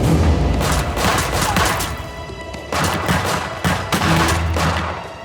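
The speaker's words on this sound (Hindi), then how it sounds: "बगैर सोचे समझे गोलियां चला रहे हैं।" Rapid volleys of gunfire crack and boom in dense, overlapping bursts, loud and close throughout, with heavy low rumble and no pauses long enough for quiet.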